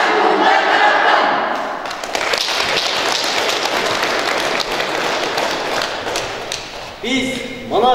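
A crowd applauding at the opening ceremony of a school sports hall, steady dense clapping filling the hall for several seconds before a voice comes in at the end.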